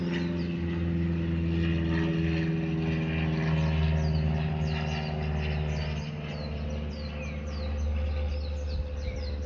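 A plane passes overhead outdoors, its steady broad engine drone holding at an even level throughout with no voices, while faint bird chirps flicker above it.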